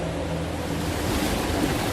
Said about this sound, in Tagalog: Masyadong malakas ang agos ng tubig.